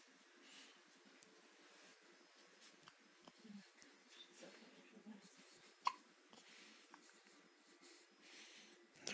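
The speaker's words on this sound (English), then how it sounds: "first set of hiccups I can't get rid of" A person hiccups repeatedly in a quiet room, short sharp catches scattered irregularly among faint breathing and small rustles, with one louder hiccup standing out.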